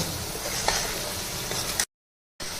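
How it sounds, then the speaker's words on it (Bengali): Meat masala and coriander powder sautéing in a pan, a steady broadband sizzle with soft stirring scrapes that cuts out briefly near the end and then resumes. "এখন এই মশলাটা খুব ভালোভাবে কষিয়ে নিব।"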